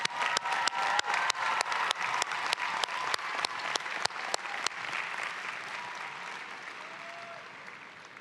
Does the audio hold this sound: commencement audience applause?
yes